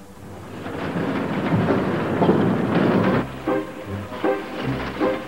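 A train on a children's cartoon rumbles along with a low heavy roar and rhythmic clatter of wheels, loud at first and then breaking into periodic thumps near the end.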